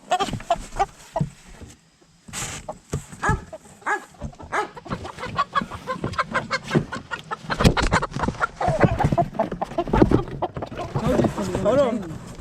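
Baby chicks and young hens being moved from a brooder to a big backyard coop cluck and peep repeatedly, close and lively, mixed with handling rustles and a person speaking throughout.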